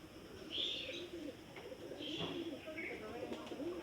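Pigeons coo softly in a flock gathered over a shrine, with several low throaty calls and faint chirps scattered across a few seconds amid quiet outdoor ambience and some distant human voices.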